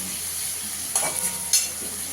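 Tomatoes and slit green chillies sauté in a pan for a fish malai curry, giving a steady close sizzle with two brief louder scrapes of stirring.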